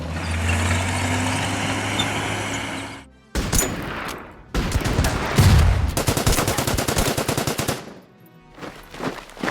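Artillery and gunfire in a World War II Burma Road battle in a war video game, heavy booming and rattling bursts in several loud clusters with brief gaps, close and dense, no talking.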